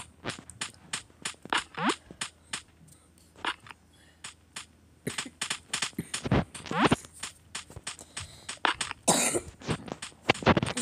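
A long string of close, sharp coughs from a person with a cold, in quick irregular bursts, some in rapid clusters, with no talking.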